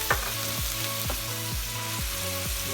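Vegetables frying in a pan with chili added, a steady close sizzle with a few soft stirring knocks and scrapes repeating about every half second.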